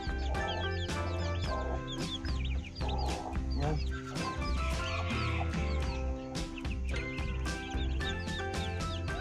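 Hens cluck steadily, mixed with the high peeping of newly hatched chicks, all close and continuous, with bright chirps recurring throughout.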